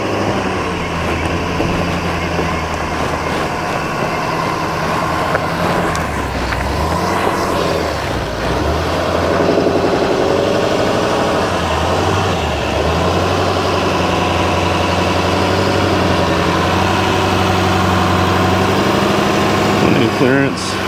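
A 2023 GMC Sierra 2500 Duramax diesel 4x4 pickup grinds up a steep hill test, its engine droning low and steady throughout with a fairly loud, continuous rumble that swells slightly midway.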